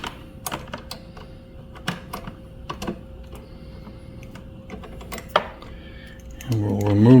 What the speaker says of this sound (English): using an 8mm socket on the head of the bolt but a 10mm on the nut, we're going to loosen this